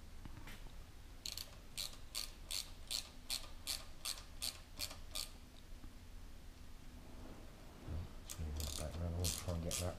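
A Jubilee hose clip is tightened on a Honda Benly motorcycle, giving a rapid, regular run of close ratcheting clicks that stops briefly, then resumes with denser mechanical clicking at the end.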